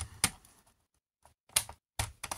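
Scissors snip through paper for a small scrapbooking tag, in several separate crisp cuts with short quiet gaps between them, close up and alone with no talk.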